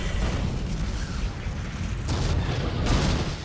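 Dense, rumbling explosions from the Dead Space video game fill the whole stretch, a continuous roar of blasts with two sharper bursts near the end, loud and close with no voices.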